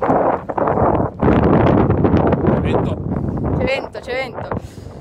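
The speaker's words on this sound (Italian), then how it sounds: "C'è vento." Strong outdoor wind buffets a microphone during a leash walk with huskies, a loud, rough rumble that surges and fades, with muffled voices partly heard beneath it.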